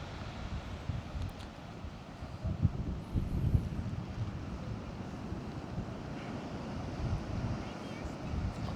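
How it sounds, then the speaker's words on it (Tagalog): Rough, rumbling surf and wind buffeting the microphone near the shore, a steady heavy wash of strong sea waves with occasional stronger surges. "Malakas sa alon, malakas sa alon."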